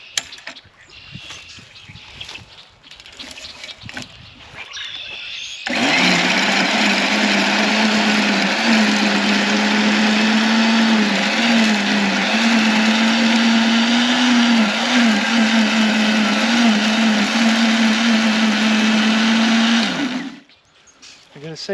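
A Greenworks 13.5 amp electric rototiller starts up after some quiet handling and runs with a loud, steady motor whine and churning for about fifteen seconds, then winds down, with no talking over it.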